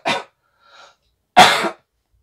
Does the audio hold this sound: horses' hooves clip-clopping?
no